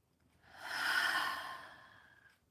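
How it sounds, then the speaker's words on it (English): A single slow, deep breath during a guided meditation, swelling gently and fading again over a couple of seconds, soft and close with no talking. "Another deep breath in."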